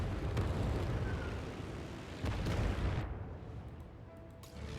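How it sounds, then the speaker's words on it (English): Carpet bombing in Civilization VII lands as a series of deep rumbling explosions. Heavy booms swell and roll together, then the sound thins to a quieter low rumble toward the end. "order a carpet bombing of all of my ships"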